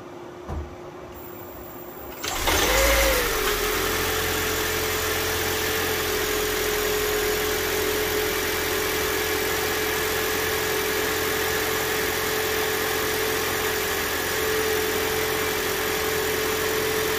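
A hybrid car's engine, fitted with a new ethanol conversion box, cranks and catches at once, then settles into a steady, even idle hum that continues without a break.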